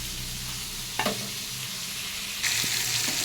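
Food sizzles steadily while being fried a second time in oil in a pan, with a few brief stirring scrapes and a louder burst of hissing near the end.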